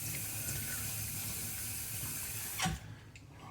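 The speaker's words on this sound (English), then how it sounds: "Get my face wetted up here." Tap water runs and splashes into a sink while a face is wetted before shaving with a cheap safety razor, a steady close hiss of flowing water that cuts off near the end, leaving quieter splashes.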